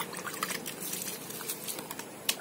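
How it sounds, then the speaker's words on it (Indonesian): Liquid organic fertilizer trickling and pouring steadily onto tomato plants and soil, a soft continuous splashing at close range with small drips, no talking. "Ini kita siram saja begini."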